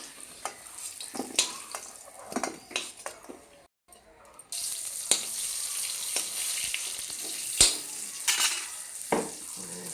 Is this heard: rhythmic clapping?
no